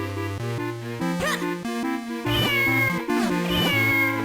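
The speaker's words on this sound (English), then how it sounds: "Did you see that cat looking at me?" A cartoonish cat in The Legend of Zelda: The Minish Cap gives several loud, rising and falling meows over steady game music, each cry bending in pitch.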